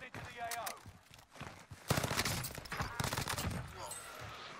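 Gunfire in the Apex Legends video game, rapid bursts and repeated sharp shots at moderate level, with someone talking over the shooting.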